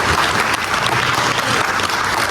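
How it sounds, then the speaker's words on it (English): Clapping from the audience at a community meeting comes as a loud, close, dense burst of many hands, sustained and even across the whole stretch. "let's give her a round of applause"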